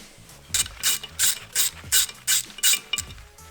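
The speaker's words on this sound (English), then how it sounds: "There are two 12mm bolts here in the back, really easy to remove." Hand ratchet loosening 12mm bolts on an old brake caliper, heard as seven or so crisp, close clicking bursts at an even back-and-forth rhythm, with no talking.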